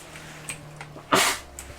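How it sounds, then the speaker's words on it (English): A single loud, sharp sneeze bursts out in the middle, with a few faint clicks before and after in a quiet room. "oh my god, I'm going to sneeze."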